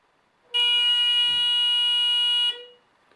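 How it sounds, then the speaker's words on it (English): Driveway intruder alarm with dual infrared beams sounds its electronic buzzer, a loud steady harmonic tone starting abruptly and holding for about two seconds before cutting off. "the buzzer will now sound for 2 seconds and then reset itself"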